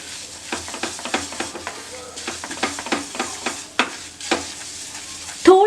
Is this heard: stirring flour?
yes